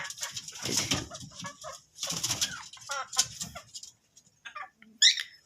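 A rooster clucking up close, bought at a country chicken market, a series of short clucks and calls with pauses and a sharper cry near the end, no talking.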